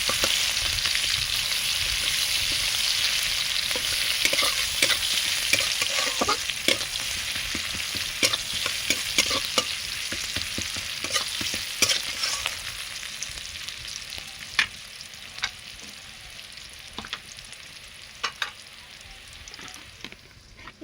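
Chopped onions fry with panch phoron in a little oil for a Bengali rui fish and potato curry. The sizzle is steady and close, with repeated sharp scrapes and clicks of stirring scattered through it and no voices.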